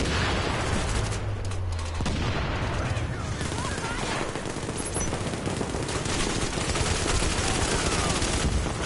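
Rapid automatic gunfire in a PS4 shooter game, dense overlapping bursts and sharp reports firing continuously at close range, with a voice talking briefly among the shots.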